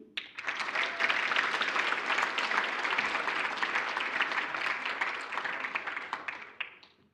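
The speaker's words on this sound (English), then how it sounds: "That applause is getting a little faint." Applause from the audience at a mathematics awards function: a sustained round of clapping that swells quickly, holds fairly full for several seconds, then tapers off into scattered claps, moderately loud with no talk over it.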